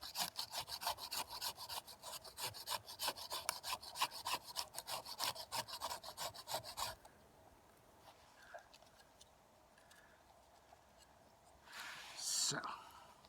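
Fatwood being shaved into small shavings for a fire lay, a fast run of rhythmic rasping scrapes lasting several seconds, then quieter handling and a brief scratchy burst near the end.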